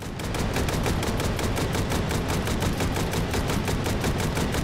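Rapid, evenly spaced gunshots from a weapon on infinite ammo in the VR shooter Hot Dogs, Horseshoes & Hand Grenades, a loud unbroken automatic stream with no talking.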